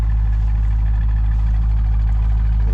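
Corvette engine idling, a steady deep rumble that is loud and close, continuous without talk.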